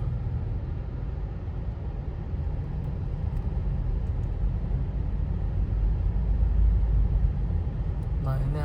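Weekend traffic jam on Jalan Nangka in Pekanbaru, a continuous low rumble of idling and creeping cars and motorbikes, steady and close, with a voice speaking over it.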